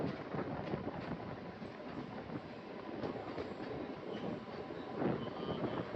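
The Kharagpur–Hatia train rolls past at a station, a faint steady rumble of wheels and carriages with soft rail clatter and some wind noise.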